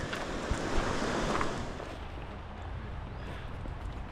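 A river flowing under a bridge, heard as a steady broad rush of water, close and continuous, slightly louder at first then settling, with no talking.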